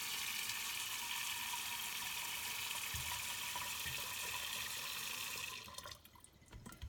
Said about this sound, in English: I'm just going to fill it up with some water to rinse them out.